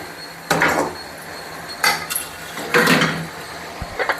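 Eggplant curry being stirred in a pan, with a few separate clanks and scrapes of a utensil against metal spaced a second or so apart over a low, steady background hiss.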